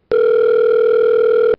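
A telephone dial tone sounds as one steady, loud electronic hum that starts abruptly, holds evenly for about a second and a half, then cuts off.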